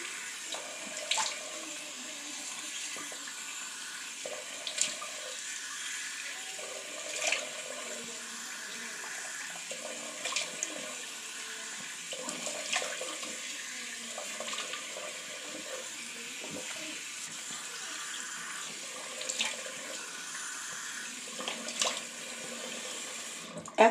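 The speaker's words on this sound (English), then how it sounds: "just go ahead and rinse it off." Tap water running steadily into a bathroom sink while a face is rinsed, a soft continuous flow with irregular splashes as hands dip in, faint and close throughout.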